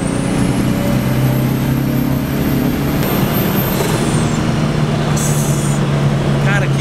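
A Volkswagen Beetle with a 1.9 turbo engine and Porsche wheels is accelerating, giving a loud, continuous engine roar with a high whistling tone that climbs and then drops away.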